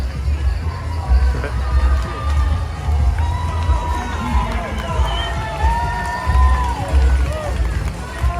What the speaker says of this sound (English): I love all the spectators and all the signs and all the clapping